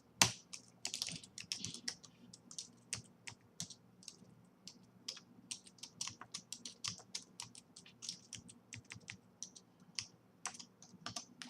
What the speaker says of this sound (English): I'm going to type it up for you first, and then explain what I did afterwards.